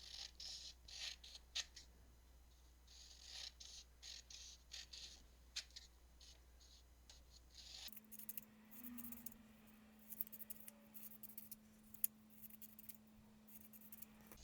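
Scissors snip repeatedly through material to cut out strips for weaving, making a steady series of close, crisp cuts with small pauses and a low hum underneath.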